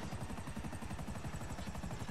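A helicopter in the video game GTA 5 gives a rapid, rhythmic rotor thumping, a steady loud chop that stays even and close for the whole clip.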